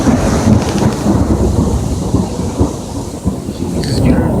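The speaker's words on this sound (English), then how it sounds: "You heard that thunder? That thunder was huge." Loud thunder rolls and cracks through a heavy thunderstorm, with steady rain pattering on surfaces throughout, close and powerful, with no talking.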